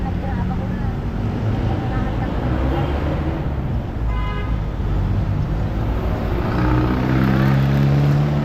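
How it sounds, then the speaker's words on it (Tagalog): Busy afternoon traffic on Taft Avenue in Manila rumbles continuously nearby, with engines droning and a brief horn-like tone cutting through, while people talk over it. "Medyo traffic na pag ganitong oras."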